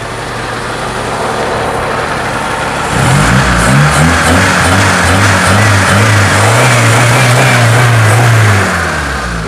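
A 1984-1986 Honda Civic SB4 Wonder sedan engine idles, then revs up into a loud, rumbling roar that pulses and holds, close by, before easing back down.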